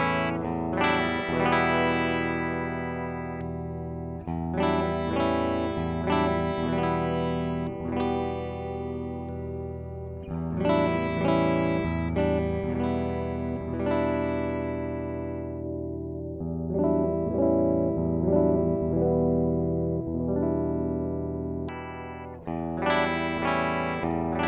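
A Gibson ES-335 electric guitar plugged into a Fender Reverb Deluxe amp plays loud, sustained chords and single notes with a driven, effected tone, ringing out in phrases separated by brief pauses.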